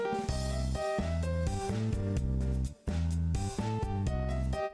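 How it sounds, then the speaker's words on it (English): Upbeat MIDI menu tune from Gran Turismo 3's GT Auto screen, with steady bass, chordal backing and a bright lead melody, loud and continuous with a short dip near the third second. "take the music in GT Auto,"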